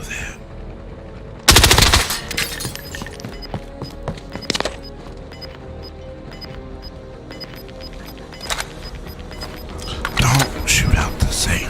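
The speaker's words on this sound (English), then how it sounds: "Why would I shoot out the same window?" Bursts of video game gunfire shooting out a window, a loud volley at the start and more shots near the end, with scattered game sounds and voices talking in between.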